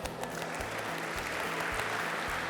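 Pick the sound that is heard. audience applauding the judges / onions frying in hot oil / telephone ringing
audience applauding the judges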